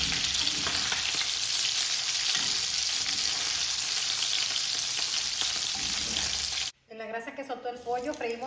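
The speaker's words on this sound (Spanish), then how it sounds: "El pollo, freímos la cebolla." Onion fries in a pan on a stove at medium heat after chicken pieces are removed: a loud, steady, close sizzle fills most of the clip, then cuts out abruptly and gives way to softer, uneven sounds.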